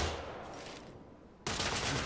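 Rifle fire in the video game The Order: 1886 comes as loud, dense bursts of shots, fading briefly before a sharp, heavy blast.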